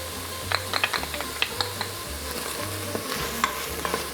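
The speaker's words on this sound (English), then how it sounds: "the onion and jalapeno into the Instant Pot. And we're gonna let this cook for about 2 minutes" Onion and jalapeno sauté in an Instant Pot, a light steady sizzle under repeated small scrapes and taps of a stirring utensil, close and moderately loud with no voices.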